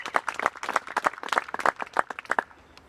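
A crowd applauds a disc golf drive during round four of the 2018 Ledgestone Insurance Open, with a burst of brisk, scattered clapping that rises and then fades over a few seconds.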